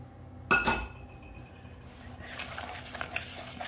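A handful of toasted pecans tipped into a glass bowl, one bright clinking clatter near the start, then a soft rustle and faint scraping.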